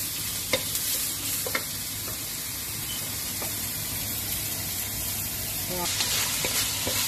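Carrot is stir-fried with a pinch of salt in a hot pan, giving a steady, close sizzle broken by a few light clicks of the stirring utensil. One brief spoken word is heard.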